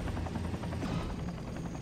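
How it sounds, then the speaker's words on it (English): A helicopter in MechWarrior 3 chops overhead with a rapid, pulsing rotor beat over a heavy low drone, loud and continuous throughout without speech. "Waiting for this helicopter to come back around, and then we'll deal with him."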